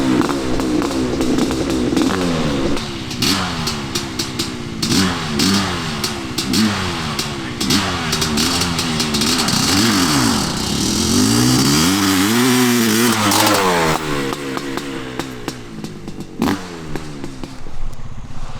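Worn-out Honda CR500 two-stroke dirt bike revving hard at a holeshot start, a loud close snarl climbing and dropping in repeated throttle blips across the whole stretch, with no talk.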